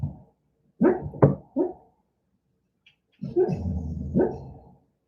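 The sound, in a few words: dog barking in her sleep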